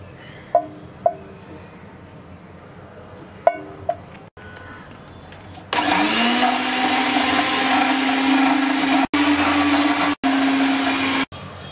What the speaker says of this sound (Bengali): এবার আমরা ডিম আর চিনিটাকে বিট করে নেব।